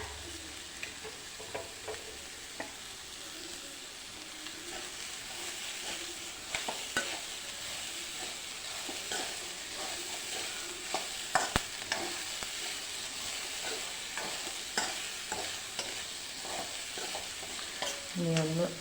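Drumsticks sizzle with coconut in a frying pan, a continuous bright hiss broken by repeated scraping stirs and small clinks of the spoon, close and steady throughout.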